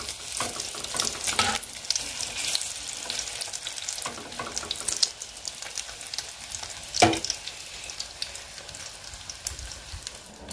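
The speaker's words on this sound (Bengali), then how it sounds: "আমি পাউরুটিগুলি কিন্তু ডিম দিয়ে ভেজে ফেলছি" Bread slices dipped in egg frying in a pan, a continuous close sizzle with crackling bursts and a few sharp scrapes or clatters, no talking.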